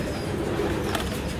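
Pigeons kept by Karachi pigeon fanciers, cooing steadily in low, soft murmurs over a constant background hum, with a faint chirp near the end.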